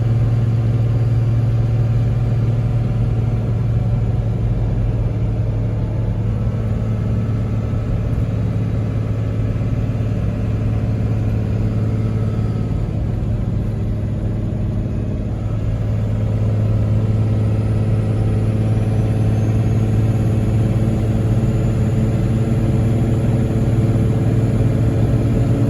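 A Cummins diesel Ford F350 pickup towing cattle and hay, heard from inside as a steady, loud low engine drone that holds an even pitch throughout, with no talking.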